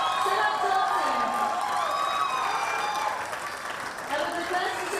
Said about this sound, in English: please put your hands together for a round of applause for the 10-meter air pistol men gold medal winner, Sarabjot Singh